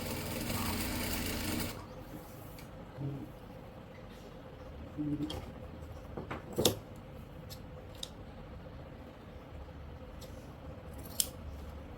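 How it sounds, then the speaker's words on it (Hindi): Sewing machine stitching a ban collar on a kurti, with a loud whirring run in the first two seconds, then a softer background with scattered faint clicks and handling sounds. "वैसे ये सिलाई बिल्कुल फिनिशिंग से साथ लगाते हुए चलेंगे"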